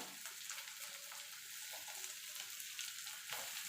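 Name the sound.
spices being stirred and fried in a pan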